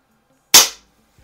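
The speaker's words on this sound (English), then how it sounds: "let's go ahead and run these six shots across the chronograph" A single sharp shot from a Umarex CO2 replica Colt Peacemaker single action Army revolver, a loud crack that decays quickly, fired near the chronograph and heard alone.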